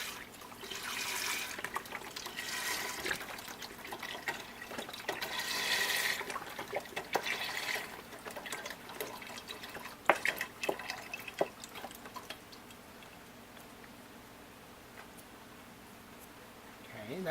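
Liquid beef broth from a 48-ounce carton pours into a CanCooker pot for beef stew, a splashy trickling rush with a few drips, fading to quiet near the end.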